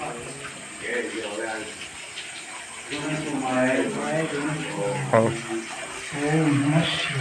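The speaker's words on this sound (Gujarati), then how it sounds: "અહીં પણ પાણી ચોવીસ કલાક અવારનવાર નીકળે છે" Water flowing continuously at an ancient pilgrimage shrine near Somnath, where it runs day and night, a steady wash beneath someone talking close by throughout.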